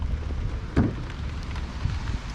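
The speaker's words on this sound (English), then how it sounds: "it's raining a little bit harder, so I gotta do this fast" Light rain falling outdoors, a soft steady patter with some wind noise, one short louder knock partway through, no voices.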